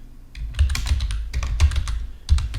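Rapid typing on a computer keyboard, close and steady, a dense run of clacking keystrokes with a few heavier thumps, with no voices.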